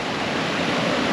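Water of the Pulangi River rushing past, a loud, dense and steady broadband roar with no breaks and no voices over it.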